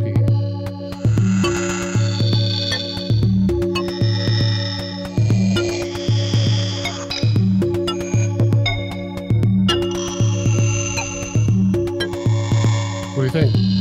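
A drum machine kick and snare pound out a steady, punchy beat alongside synth tones, loud and repetitive throughout.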